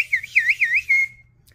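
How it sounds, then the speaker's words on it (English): A shrill, warbling whistle made with the tongue and a toothpick rises and falls in several quick loops, loud and close, then cuts off after about a second. "I'm going to teach you how to do that super loud whistle you hear at sporting events or concerts"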